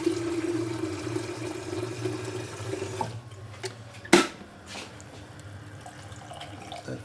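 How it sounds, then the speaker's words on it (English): Water poured from a tap into a cooking pan with wine over very low heat for a cottage-pie style dish, a steady running pour for about three seconds, then a brief clatter and quieter kitchen sounds. "Let's add some water."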